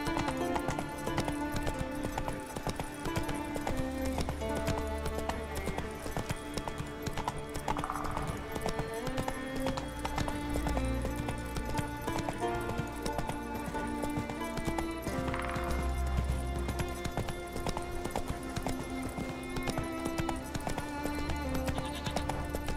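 Horse hooves clip-clopping steadily in The Witcher 3 video game, a continuous rhythmic hoofbeat under layered game music and ambience, with a brief whinny.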